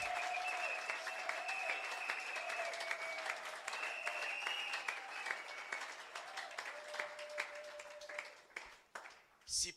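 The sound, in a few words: congregation applauding in church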